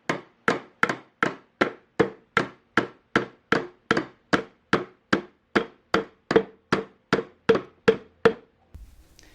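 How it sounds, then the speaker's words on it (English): A hammer drives nails into wood for a simple piggy bank project, about twenty sharp, evenly spaced blows in a steady rhythm, loud and close, with no talk. "pull back a little bit on the hammer like that"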